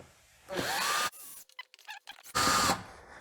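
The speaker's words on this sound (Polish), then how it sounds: "On jest zamontowany na trzy wkręty. Należy je wykręcić." A power drill backs screws out of the lock on a cold-room door, model 4200. Two whining bursts of the motor are separated by short clicks and rattles, close and with no talk.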